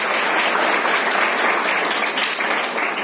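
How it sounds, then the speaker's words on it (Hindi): An audience at a breast cancer awareness camp at Hume School applauds for mothers: dense, steady clapping that holds at an even level from start to finish, with no voices over it. "तालियां होनी चाहिए माँ के लिए"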